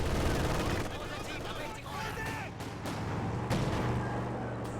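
Sustained gunfire from an MG42 machine gun in Company of Heroes 2, a loud, dense clatter of shots with battle noise running through the whole stretch, with speech-like sounds in the mix.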